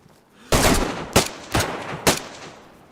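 Gunfire in the video game DayZ: four loud, close shots spaced about half a second apart, each a sharp burst with a brief rumbling tail, no voices over them.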